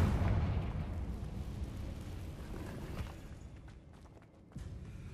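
A Confringo fire spell blasts in Hogwarts Legacy inside an abandoned cave, a loud booming burst at the start that rumbles and fades over several seconds, with a second thump near the end.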